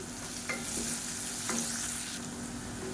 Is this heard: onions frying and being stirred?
yes